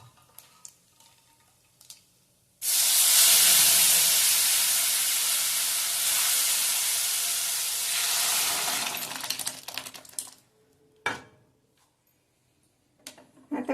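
Boiled peas tipped into hot tempering for ragda, bursting into a loud, sudden hiss that holds steady for several seconds and then fades, followed by scattered clinks and stirring knocks.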